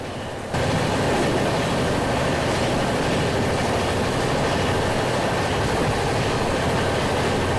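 Shree Mata Vaishno Devi Gandhidham Sarvodaya Express heard from on board as it runs toward Ambala Cantt, giving a loud, steady rumble and rattle of wheels and carriages that starts abruptly and continues without speech.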